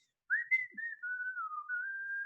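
A human voice imitates a creature's whistling as it floats closer, a single clear wavering whistle tone that slides and holds for about two seconds, soft and alone.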